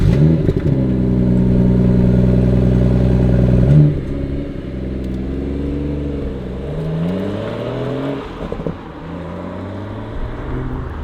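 BMW M2 Competition or M140i six-speed manual engine revving and accelerating hard, a loud rising drone through the gears with a sharp shift break, then climbing again, close and dominant.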